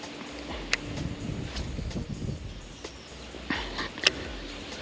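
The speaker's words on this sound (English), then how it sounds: "the wind is really kicking up" Strong wind gusting outdoors at the water while fishing, a constant low rumbling buffet across the microphone with a few sharp clicks and knocks from nearby gear.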